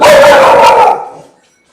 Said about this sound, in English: Oh, here goes the dog.